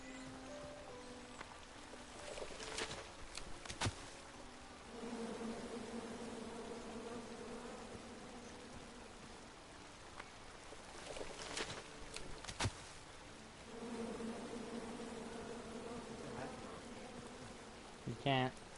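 Angry bees buzz from a tree in the King's Quest game, a steady droning hum that swells and fades across the scene, with a few sharp clicks and a brief speaking voice over it.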